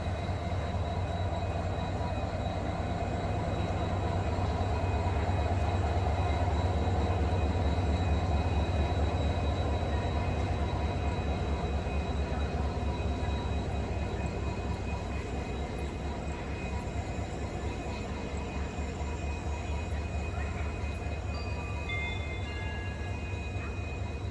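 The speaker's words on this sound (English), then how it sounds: "We will not be seeing this train again in its diesel avatar with conventional rakes." Steady, loud diesel locomotive rumble with rhythmic wheel clatter from conventional coaches on the train's last run, continuous and close throughout with no speech.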